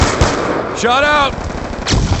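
Rapid automatic fire from a FAL DSW rifle in a shooter video game, a loud, dense clatter of shots running throughout, with a brief tonal voice-like call layered in the middle and a final heavy report near the end.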